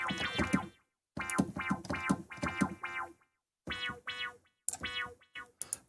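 A synthesizer in Reason plays repeated short tones, each note echoed by a delay effect that trails off, in several separate phrases with brief silences between.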